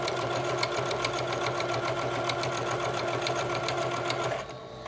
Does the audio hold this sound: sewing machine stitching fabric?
yes